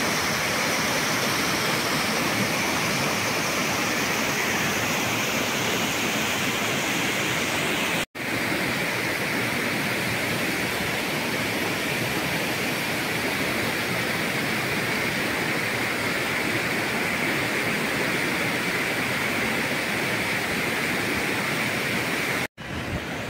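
Rushing water pours through the Orrido di Foresto gorge in Val di Susa as a loud, unbroken roar, constant throughout with no voices.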